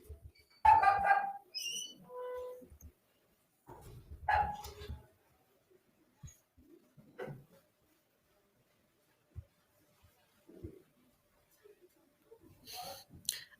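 A dog barks in a few separate bursts, fairly close, with gaps of quiet between them and a faint whimper or yip near the end.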